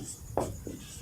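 A pen scratches briefly on paper while a physics solution is written out by hand, two short close strokes over faint room noise.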